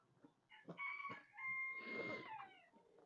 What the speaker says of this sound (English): The chickens love coming here.